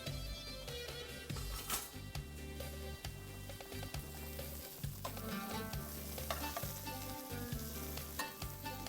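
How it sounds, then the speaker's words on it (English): Steady sizzling and crackling of garlic frying in hot oil, with a faint repetitive scraping of spoon stirring underneath. "You hear the popping, you hear the oil, you hear everything going."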